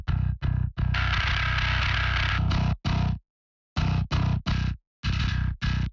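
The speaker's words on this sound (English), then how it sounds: "I like a little bit more of that scooped sound, so this blue distortion is what I'm going with" Electric guitar through a scooped blue distortion setting plays loud, tightly chugged chord stabs, then a long ringing distorted chord, then more clipped bursts separated by short silences.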